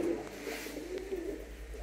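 Red Lahori pigeons coo softly at a pigeon farm, their low, throaty calls repeating in gentle pulses over a quiet background.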